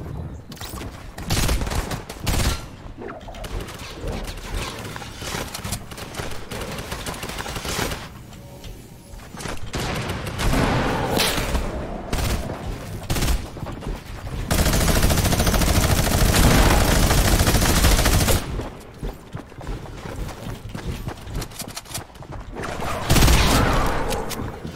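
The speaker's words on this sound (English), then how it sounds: "Burst assault rifle." Bursts of assault rifle gunfire in Fortnite, loud and repeated, with dense volleys and short pauses, and a long sustained stretch of rapid shots in the middle.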